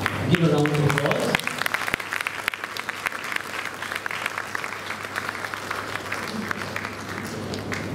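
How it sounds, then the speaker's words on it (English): Audience applause at a school event fills the space with steady, dense clapping that runs throughout, loud and close, following a brief spoken announcement at the start. "Give a round of applause."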